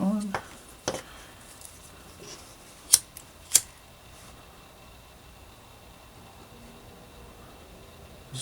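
Two sharp, quick snips of scissors cutting paracord, close and crisp, with soft handling noises and a quiet background.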